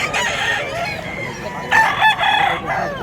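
Roosters crow loudly and close by at a budget chicken market in Mantalungon, Cebu, two overlapping drawn-out calls with hens clucking around them and faint voices in the background.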